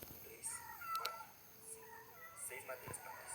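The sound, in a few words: cat meowing in 99 Nights in the Forest video game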